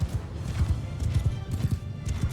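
Horse hooves clip-clopping in the Mount & Blade II Bannerlord battle game, a steady, rapid rhythm of loud, close hoofbeats continuing throughout, with no talk over them.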